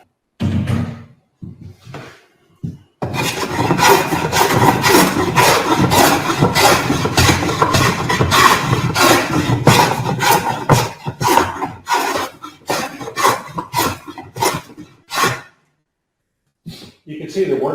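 A hand plane works across wood in diagonal strokes, giving a series of rough, rasping shaves that run together through the middle and then break into separate, quicker strokes with short pauses toward the end.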